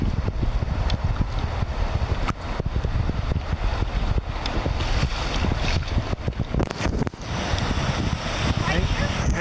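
Kayak running rapids on the Spokane River, with steady rushing water and wind buffeting the microphone throughout, a loud near wash with a brief dip before a hiss rises; a voice talks over it.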